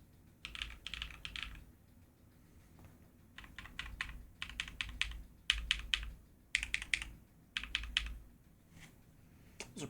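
Typing on a GMMK Pro mechanical keyboard, in several quick bursts of clacky keystrokes separated by short pauses, close and fairly quiet, with no talk.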